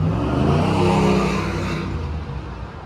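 A loud car roars past close by, its engine rising then fading as it moves away.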